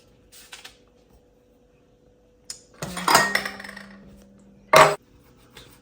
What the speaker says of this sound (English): I'm just gonna cut this into 9 pieces.